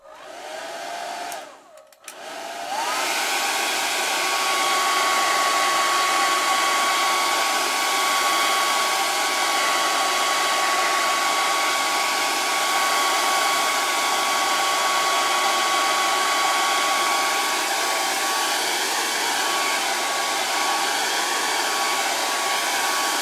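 A hair dryer blowing on a damp watercolour painting of a yacht switches on after a brief pause and runs as a steady, loud, unbroken whir with a faint whine throughout, no voices over it.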